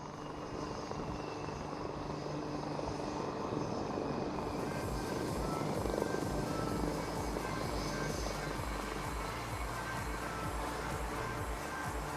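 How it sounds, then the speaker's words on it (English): A Sukhoi-30 MKI fighter jet approaches the runway and touches down at the Aero India air show, heard as a steady, loud jet roar that swells slightly midway, with no pauses and no speech. "Approaching the runway, all grace and poise, touching down."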